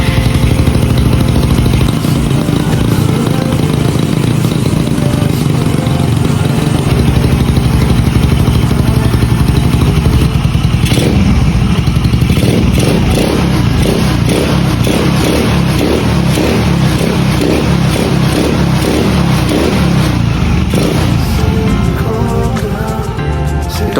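A Yamaha Mio MX 125 scooter fitted with a Keihin PE26 CNC carburetor runs loud and close, idling roughly before revving in repeated bursts, with clattering mechanical noise throughout.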